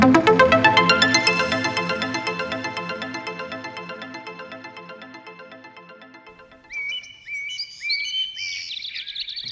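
A little bird chirping in a children's animated bedtime story: bright, high chirps and tweets come in during the last few seconds, after a repeating musical jingle fades out.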